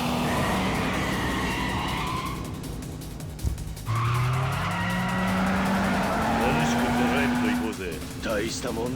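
A car drifting in the Yakuza 5 Remastered video game, its engine revving loudly while tires squeal in long rising and falling screeches, with a sharp thud partway through.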